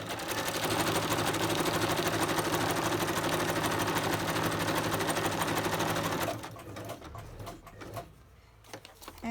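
A sewing machine stitches steadily with a dense, continuous mechanical whir for several seconds, close and loud, then stops, leaving quieter handling noises.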